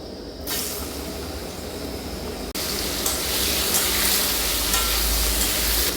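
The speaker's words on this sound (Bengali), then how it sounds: "এরপর আমি একই তেলে কুমড়োটা ভেজে নেব।" Pumpkin pieces fry in hot oil already used for cauliflower, a steady loud sizzle and hiss that swells sharply midway as more pieces hit the pan, with no talking.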